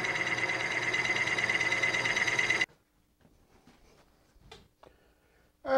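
A metal lathe runs a light skim cut with a steady, loud, even mechanical whir and hum, then stops abruptly, leaving a quiet workshop with a few small clicks and knocks.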